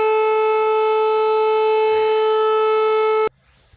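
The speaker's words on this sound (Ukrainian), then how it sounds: "У нас тут повітряна тривога." A civil defense air raid siren blares loud and steady as a sustained tone, then cuts off abruptly near the end, leaving quiet.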